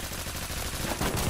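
Rapid gunfire bursts from a Honey Badger rifle in the Roblox shooter Phantom Forces, dense repeated shots filling the short moment at loud, close range.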